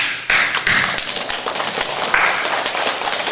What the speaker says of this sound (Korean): 그냥 박수 쳤어요.